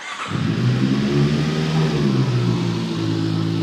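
A VOGE RR 500S inline-four motorcycle engine cranks and catches, then settles into a loud, steady idle with a droning hum and slight fluctuations as the revs stabilize, close to the listener.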